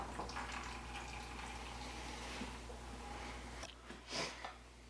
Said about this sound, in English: drop your upper fork tube all the way down and start pouring out the oil